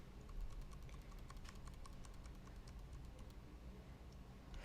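Steady typing on a computer keyboard, a continuous run of quick light clicks close by, with no voices.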